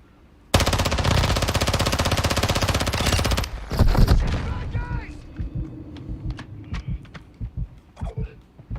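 Rapid automatic fire from the VEL 46 submachine gun in Call of Duty Modern Warfare II, a loud continuous burst of about three seconds that cuts off abruptly, followed by scattered game effects and a voice underneath.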